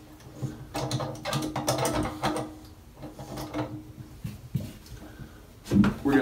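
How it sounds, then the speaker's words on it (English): A small crescent wrench tightens a nut on a toilet supply line, producing a scattered series of close metallic clicks and scraping taps with short pauses and a sharper knock near the end. "I'm going to get a little crescent and I'm going to tighten this up."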